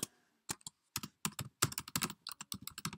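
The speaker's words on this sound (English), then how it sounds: "So let's just type in" Keys clack on a computer keyboard in quick, uneven bursts of close, crisp taps with short pauses between, typing text while coding HTML; no voices.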